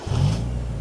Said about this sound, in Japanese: エンジンもちろんあっさりかかりますね